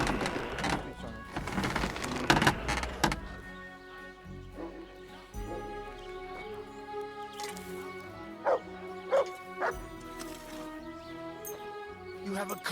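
A dog barks and yips in the medieval role-playing game Kingdom Come: Deliverance II, a few sharp barks amid game sounds and music, with a voice speaking.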